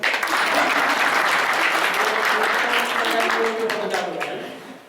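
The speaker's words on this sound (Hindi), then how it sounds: "जरा तालियां तो बजा दो।" An audience claps steadily at a Brahma Kumaris gathering, a loud, dense wash of applause holding evenly for several seconds before tapering slightly at the end.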